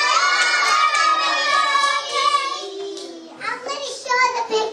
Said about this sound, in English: Everybody give her a big cheer.